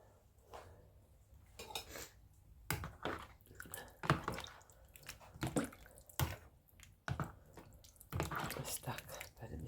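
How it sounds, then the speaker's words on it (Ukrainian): Chicken liver is rinsed under cold kitchen water, giving irregular splashes, drips and squishy handling sounds close by, with clinks of a dish and a quiet voice now and then. "зараз я промию трошки водою холодною"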